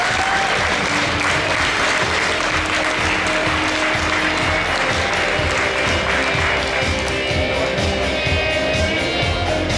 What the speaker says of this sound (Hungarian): egy nagy tapsot kérek a közönségtől